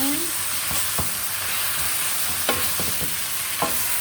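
Onions and garlic sauté in a hot pan, a steady close sizzle with occasional soft clicks of a utensil stirring, alone without talking.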